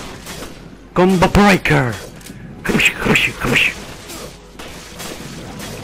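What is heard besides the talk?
gunshots in video game Resident Evil Revelations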